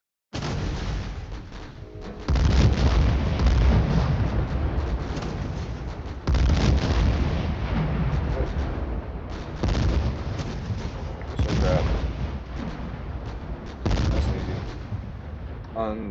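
Gunfire and explosions from the strategy video game Strategy Combat: dense, continuous battle noise of repeated shots and booming blasts, loud throughout, with surges of heavier explosions every few seconds.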